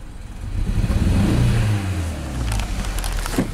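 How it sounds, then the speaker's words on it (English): A Hyundai Veloster engine with a fault revs in one loud, steady, rough surge that holds, then eases off and climbs again. "when I rev it, it sounds like a go-kart as it starts"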